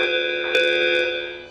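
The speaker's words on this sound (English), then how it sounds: "Ring the alarm bell." An alarm bell rings once in a Macbeth stage performance, a bright metallic strike with a sustained, slowly fading ringing tone, heard alone.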